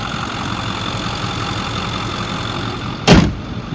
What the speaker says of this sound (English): the truck idles smooth